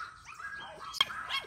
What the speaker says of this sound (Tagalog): Yung ingay ng aso